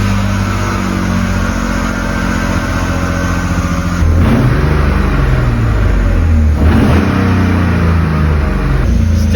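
A BMW E30 track car engine idles loudly and close, then revs up twice with rising surges that fall back slowly toward idle.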